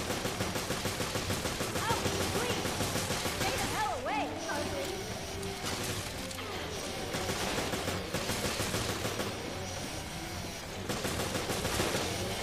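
Gunfire in the Resident Evil Revelations horror shooter, rapid sustained bursts of shots over a dense, loud game soundscape with a brief lull midway and music-like tones underneath.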